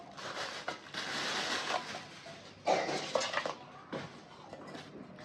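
Two non-stick rice cooker pots being picked up and set down, giving soft scattered clinks and knocks over several seconds, fairly quiet and close.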